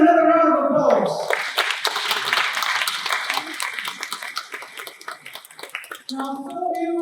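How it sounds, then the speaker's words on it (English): Audience clapping after a children's dance at a Pan Asia event in Wellington Parliament, a scattered round of hand claps under a speaking voice that fades as talk resumes. "So can we give them another round of applause?"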